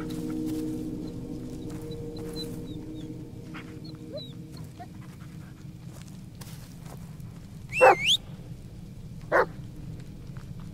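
Dog Bullet barking in the Blair Witch video game, a couple of sharp barks close together followed by one more, faintly over a steady rain-like hiss and low ambient hum.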